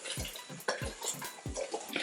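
Whisk stirring cocoa powder into sugar for fudgy cookie brownie bars, with soft repeated scraping strokes in a rhythmic pattern, close and fairly quiet, no voices.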